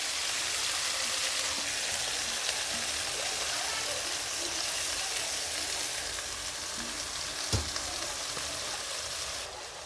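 A fish and eggplant mixture fries in hot mustard oil, crackling and sizzling up close in a continuous wash, with faint stirring scrapes and a brief knock near the end.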